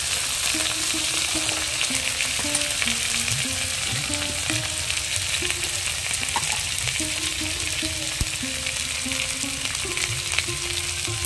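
Raw banana frying in oil with nigella seeds, chili, turmeric and salt, a steady dense sizzle with soft intermittent stirring and scraping taps throughout, no talking.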